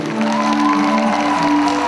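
A concert audience applauds steadily, a dense wash of clapping and cheering blended with sustained musical tones, loud and continuous.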